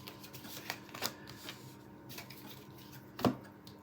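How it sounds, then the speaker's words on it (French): Oracle cards are laid out on a table with soft, scattered taps and light slides, one sharper card slap near the end, quiet and close with no talking. "Je finis de placer toutes les cartes."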